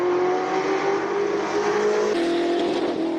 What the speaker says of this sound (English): Currently James Temple in the GT40, 7-litre incapacity, big V8.